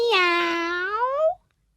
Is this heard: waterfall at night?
no